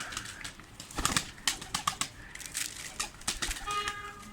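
A Miro capped pigeon arrives with several sharp bursts of flapping wings, close and fairly quiet, with soft cooing near the end.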